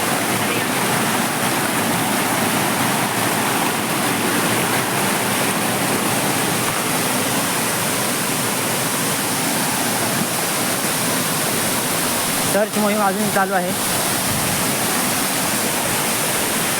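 A waterfall roars steadily on a Konkan hillside climb, a dense continuous rush of falling water throughout, with a voice speaking briefly over it near the end.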